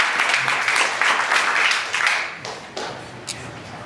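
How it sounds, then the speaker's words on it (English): Applause for a speaker at a live event, a dense round of clapping that starts loud and close and then thins and fades toward the end. "round of applause for Zoli"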